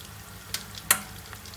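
Corn kernels added to hot oil for restaurant-style crispy corn, a soft, low sizzle under which two sharp crackling pops burst out close by.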